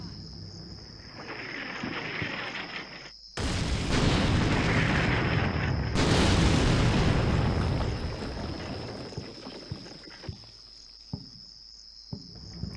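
Artillery shells explode in the Combat Mission video game during a 1945 Berlin battle, two heavy booming barrages that crash in suddenly and rumble on for several seconds over steady insect chirping, then give way to a few faint distant thuds.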